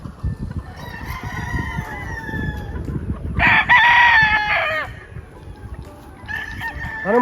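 Bullstag roosters in a farm pen crow loudly and nearby with strained, drawn-out calls, the loudest in the middle, over a continuous background of scattered clucking from the flock.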